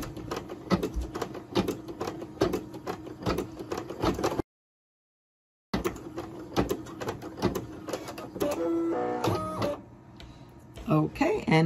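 A machine sews an appliqué tack-down stitch in fast, rhythmic clattering bursts, stopping briefly in a silent gap before starting again, with someone speaking over parts of the stitching.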